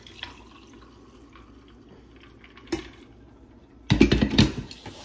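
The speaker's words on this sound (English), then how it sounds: "Gonna pour it into my little Arctic cup." Freshly brewed IHOP premium Arabica coffee goes into a small Arctic cup: faint drips and a soft knock, then a short, louder burst of splashing pour with clinks near the end.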